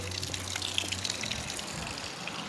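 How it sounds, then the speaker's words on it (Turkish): Water runs steadily in the yard of a house, a continuous close gush with no voices over it. "Evimizin düşməli suyu da axır."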